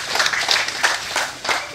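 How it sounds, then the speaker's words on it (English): Congregation clapping hands during a church service, a dense, steady patter of many hands with overlapping voices. "Clap your hands for the Lord."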